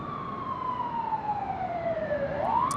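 An emergency vehicle siren wails in Los Angeles near LAX, a single slow tone sweeping gradually downward then rising again, heard from a distance over faint background city noise.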